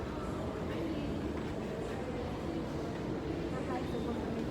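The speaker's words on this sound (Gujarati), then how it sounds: "આગળ જુઓ મેટ્રોની સફર." Interior rumble of an Ahmedabad metro train in motion, a steady, dense roar with rail clatter running continuously at moderate level, with no speech over it.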